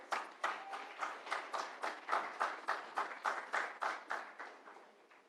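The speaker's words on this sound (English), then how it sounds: "Ladies and gentlemen, with a big round of applause," Audience applause at an awards ceremony comes as a string of evenly spaced sharp claps, rhythmic and moderately loud, sounding like a few people clapping in time rather than a dense crowd.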